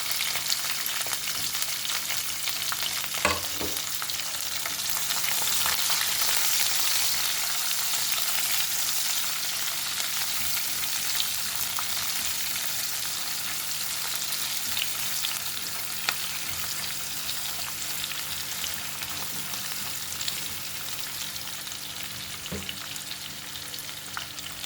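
Curry leaves, green chillies and onion fry in hot oil with a steady, dense sizzle and crackle throughout, punctuated by a few soft stirring knocks, close and continuous without speech.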